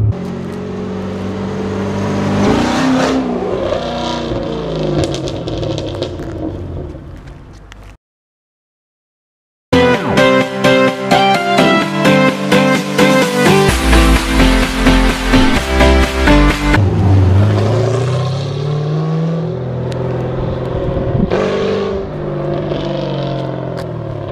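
A 2005 Pontiac GTO's engine revs and pulls while driving, loud rising and falling roars with a rapid pulsing run through the middle after a short silent gap.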